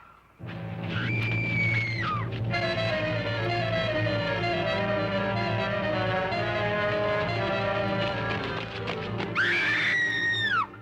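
A high, drawn-out scream rings out in a 1950s Dragnet radio crime drama, then a sustained droning tone fills the middle before a second shrill scream rises near the end.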